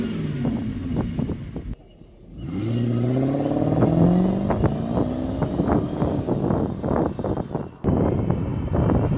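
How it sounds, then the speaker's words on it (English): A Lexus SC400 on its factory exhaust drives along with rising and falling engine tones through several gear changes, close and fairly loud, with wind buffeting the microphone. "A beautiful factory sound of the exhaust."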